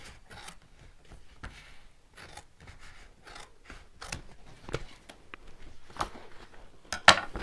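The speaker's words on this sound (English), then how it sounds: "So we'll just cut right along that line." Scissors snip along a line through paper in a series of short, crisp cuts with brief pauses between, close and fairly quiet, and a sharper snip near the end.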